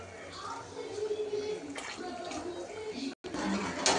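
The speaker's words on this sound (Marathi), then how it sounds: "पाणी गरम करून घेतलेलं आहे ते टाकून राहिले आता याच्यामध्ये" Heated water poured into a cooking pot of biryani makes a continuous splashing, gurgling flow, with a brief break near the end and a voice faintly present.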